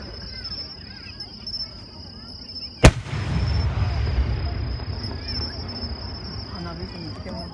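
A single sharp firework blast cracks at a distance, then a low rumbling echo rolls on, while crickets keep chirping steadily throughout.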